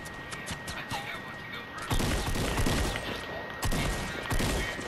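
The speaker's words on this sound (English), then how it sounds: "Sniping, sniping, sniping." Sniper gunfire in Fortnite cracks out in a few loud, sharp bursts, mixed with game noise while players talk over it.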